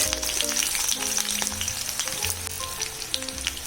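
Sliced onion sizzles steadily in oil and butter in a pan, a loud, close, continuous crackle with light stirring scrapes throughout.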